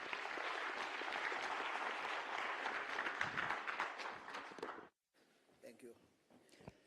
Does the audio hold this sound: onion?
no